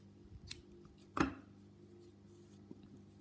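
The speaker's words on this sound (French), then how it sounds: "je coupe mon fil" Scissors snip through crochet yarn in a quiet room, with one faint click followed by a single crisp cut and a soft tap afterwards, no voices.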